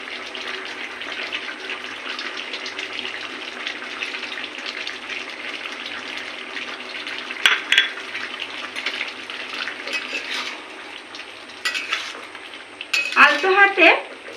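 Eggs and pumpkin stirred gently in a cooking pan with chopped coriander, a soft sizzle under clinks and scrapes of the utensil against the pan, with a brief knocking burst near the end.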